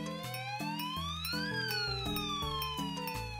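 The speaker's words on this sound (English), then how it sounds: "Sirens." Cartoon emergency sirens for a children's lesson on fire trucks and firefighters, rising and falling wails layered over one another with a steady musical backing, loud and continuous throughout.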